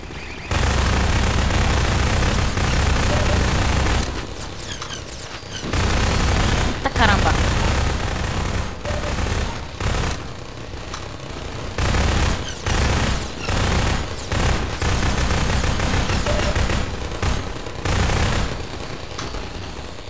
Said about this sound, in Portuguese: Ó, metralhadora agora.